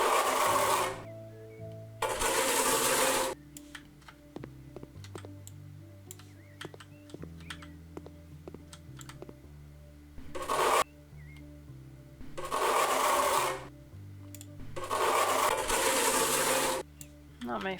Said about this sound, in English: I think I'll finish the plastering in these last two rooms.